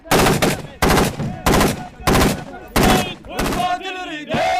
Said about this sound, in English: Hear them replying, they're firing back towards this farmhouse.